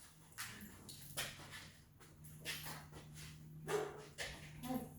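A dog in a private training lesson gives a few short, soft barks and whimpers at moderate distance, over quiet background hum with faint voices.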